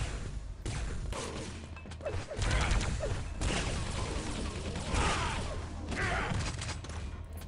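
Rocket launches and blasts ring out in a fast capture-the-flag arena match, with repeated explosions, crashes and whooshes packed tightly together, loud and close throughout.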